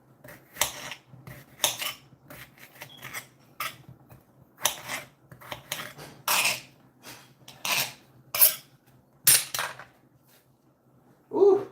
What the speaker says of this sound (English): This is turning out to be a nice pot of potatoes already. I just started chopping with a butter knife.